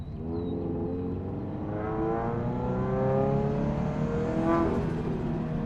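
A turbocharged Toyota GT86 accelerating hard, its engine note climbing steadily in pitch through the gear, loud and continuous from inside the car with no talking.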